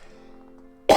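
A single sharp cough bursts out close and loud at the very end, after a near-silent stretch with only a faint steady hum.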